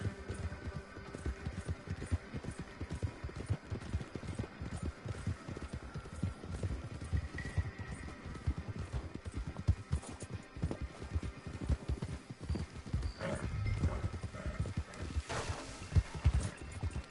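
Faint, steady clip-clop of a horse's hooves trotting at an even rhythm in Red Dead Redemption 2 Online, continuing throughout with a low background hum.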